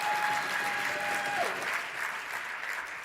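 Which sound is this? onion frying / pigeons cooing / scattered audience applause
scattered audience applause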